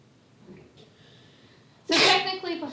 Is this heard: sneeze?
yes